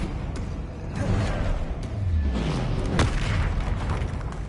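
Fiery spell blasts in the Hogwarts Legacy video game, a series of booming explosive bursts with a sharp crack near the three-second mark, layered over game music and battle noise.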